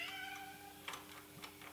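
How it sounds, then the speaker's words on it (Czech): A cat meows faintly in a car body welding workshop, giving a couple of short, distant mews over a quiet background hum. "Do toho mi tady mňaučí kočička."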